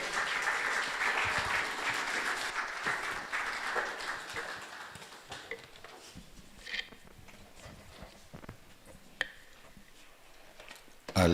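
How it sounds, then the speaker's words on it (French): A church congregation applauding and acclaiming the Lord during a book presentation; dense clapping that is loud at first, then gradually thins to scattered claps toward the end. "Pendant qu'il avance, nous acclamons le Seigneur."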